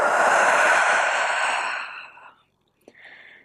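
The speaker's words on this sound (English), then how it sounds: "And exhale, let it go." A long, breathy exhale during a low lunge in a mobility session fades out over about two seconds, followed by a brief quiet click and a faint airy sound.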